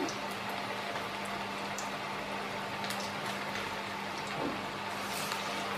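Black-eyed pea vadas frying in hot oil, a steady close sizzle and bubbling with scattered pops and crackles throughout, no talk.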